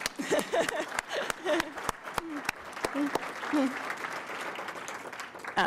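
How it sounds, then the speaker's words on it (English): An audience at a college president's breakfast claps in a scattered, moderate round, with distinct individual claps, while voices and laughter carry over it. "we can applaud now"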